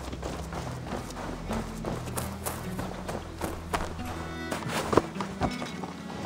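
Hooves of a horse in the video game Assassin's Creed Valhalla patter in a running rhythm, mixed in with other game sounds at moderate level and no talking.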